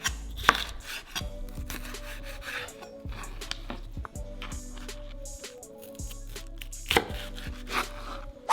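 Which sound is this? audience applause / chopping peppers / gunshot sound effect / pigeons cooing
chopping peppers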